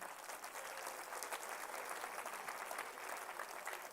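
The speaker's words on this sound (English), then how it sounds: "I think one round of applause for him." An audience at a university business conclave gives a steady round of applause, dense even clapping filling the room from start to finish at moderate level.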